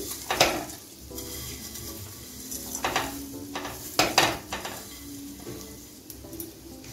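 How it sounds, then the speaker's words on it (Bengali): Broken vermicelli (semai) frying in a pan with cashews and raisins over low gas, a steady close sizzle broken by repeated scraping stirs and utensil clinks, with no talking. "এখন সেমাইটাকে আমি 3 থেকে 4 মিনিট ভেজে নেব।"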